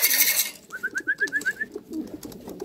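Posta pigeon chicks coo in a quick run of about eight soft, even rising notes, close by, after a brief burst of rustling at the start.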